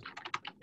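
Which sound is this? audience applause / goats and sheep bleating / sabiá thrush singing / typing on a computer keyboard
typing on a computer keyboard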